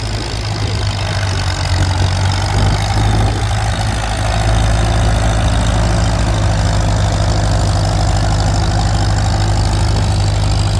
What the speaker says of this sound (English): And that's a John Deere in the rear.